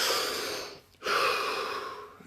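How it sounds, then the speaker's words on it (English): A deep breath: a long airy exhale, a short pause, then a full inhale, close and clear against faint background noise. "Take a deep breath."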